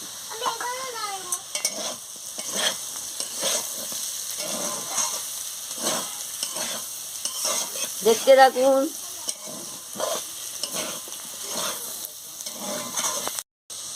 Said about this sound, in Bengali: লঙ্কাটা গুঁড়ো দিয়ে ভালো করে ভেজে নিচ্ছি।